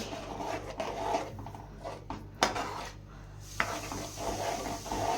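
Water stirred into chicken curry in a pot, a steady rasping scrape of a spoon against the metal with a couple of sharper knocks, close and continuous, with no talking.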